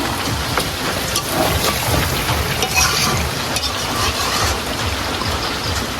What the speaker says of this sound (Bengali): বৃষ্টিও হচ্ছে